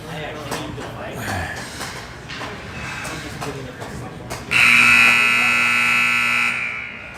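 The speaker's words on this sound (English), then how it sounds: "Buzzer's gone off, just waiting for the team to come out." A loud, steady arena buzzer sounds during an intermission of a Golden Knights versus Rangers ice hockey game. It cuts in after about four seconds of crowd murmur and holds unbroken to the end.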